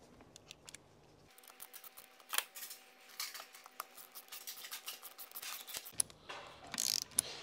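Metallic ratcheting and clicking as a clutch nut is installed on a Vespa Polini 221 engine, a close sequence of quick tool clicks and scraping with no voice.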